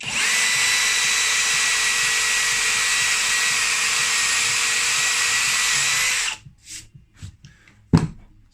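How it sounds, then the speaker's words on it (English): A power drill whines loudly and steadily for about six seconds drilling into a concrete wall, then stops, followed by a few short clicks and a thump. "So I'll drill this now."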